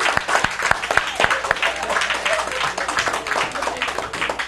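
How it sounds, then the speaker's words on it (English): An audience claps loudly for a volunteer coming up on a magic show stage, a dense burst of applause with sharp individual claps standing out. "Let's give her a round of applause as she comes up"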